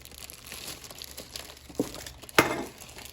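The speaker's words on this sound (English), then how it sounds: "Let me get it out of the plastic." Plastic wrap around a boxed Life-Like HO scale Conrail N5C model caboose crinkles faintly for a moment, then gives two sharp, close crackles as it is pulled free, with no talking.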